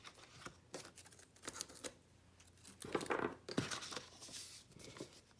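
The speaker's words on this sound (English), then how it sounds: "I'm just going to use my scissors to trim all the tape" Scissors snip through tape trimmed along the edge of an Erin Condren 2018-2019 planner, a series of faint, close, crisp cuts and papery rustles with short gaps between them.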